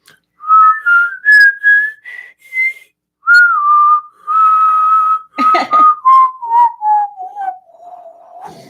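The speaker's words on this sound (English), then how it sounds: "I can whistle in and out." A person whistles a string of clear, sliding notes, some drawn on the inhale and others on the exhale, with short breaks between phrases and a breathy, fluttering stretch near the middle; loud and close, with no talking.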